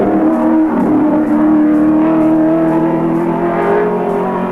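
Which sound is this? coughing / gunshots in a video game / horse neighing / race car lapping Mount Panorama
race car lapping Mount Panorama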